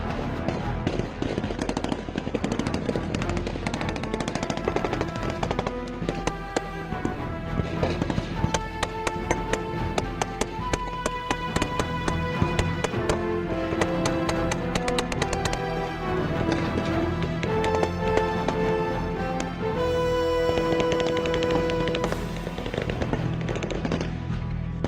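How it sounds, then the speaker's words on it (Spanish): Constant gunfire in a shootout between gunmen and the Mexican army, dense rapid bursts of automatic fire crackling continuously and loudly throughout, with shouted voices mixed in. "el sonido constante de las detonaciones retumbaba de forma peligrosa"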